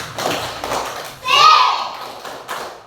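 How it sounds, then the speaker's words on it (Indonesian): Primary schoolchildren in an Indonesian classroom do a patterned clapping cheer led by their teacher. A few soft rhythmic claps and taps are followed by a burst of loud children's shouting, with voices throughout. "Coba tepuk semangat dulu."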